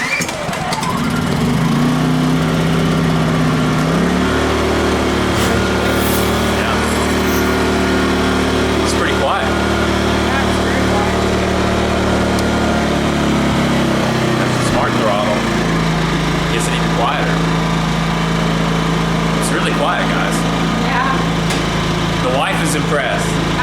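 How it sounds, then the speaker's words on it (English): Atima AY2000i 2000-watt portable inverter generator starting and running, a steady close engine drone that shifts pitch up and down as the throttle changes, with people talking over it. "And now we should be ready to crank this unit."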